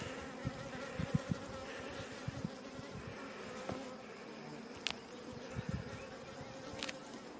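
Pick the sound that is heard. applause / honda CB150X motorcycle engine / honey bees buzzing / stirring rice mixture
honey bees buzzing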